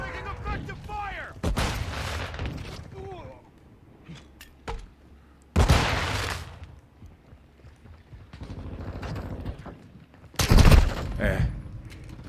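Gunfire in the shooter game Call of Duty Modern Warfare II: a few loud, heavy bursts of shots and blasts spaced several seconds apart, close and booming, between quieter stretches of game ambience and a voice.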